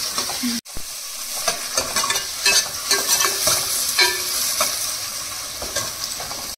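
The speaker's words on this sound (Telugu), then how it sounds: "బ్రౌన్ కలర్ వచ్చే వరకు ఫ్రై చేసుకోవాలి." Onions fry with salt in a pan for a Telangana-style mutton curry, a steady close sizzle with stirring scrapes throughout and a brief break near the start.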